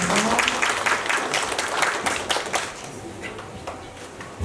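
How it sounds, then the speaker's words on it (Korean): Lecture audience applauding at an educational talk on big history, a dense patter of clapping that holds steady and then eases slightly toward the end, with some crowd murmur mixed in. "박수를 받아주시기 바랍니다."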